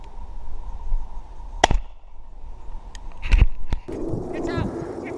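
Shotgun shots fired at pigeons over an oilseed rape field ring out as sharp close blasts, one early and a cluster of two or three later, over wind noise with people talking afterwards.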